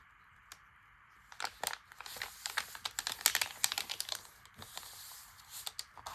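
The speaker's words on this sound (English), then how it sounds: "Folding papers in half." Paper being folded in half for a journal signature, a series of soft crisp crinkles and sharp creasing swipes, close and quiet, irregular in rhythm with no talk over it.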